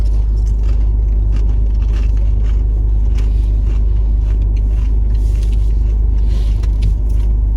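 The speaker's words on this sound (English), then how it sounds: "I really hope the motor of the car engine isn't too loud for you." Steady, loud low rumble of a car engine while the car drives along, a constant interior drone with faint road noise and no talking.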